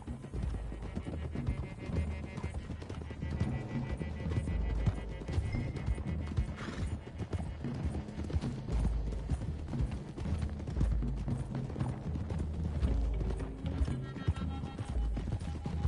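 Horse hooves clip-clop at a run through the Red Dead Redemption 2 game, a steady drumming rhythm under a dense music and ambience bed, with occasional neighs and no voices.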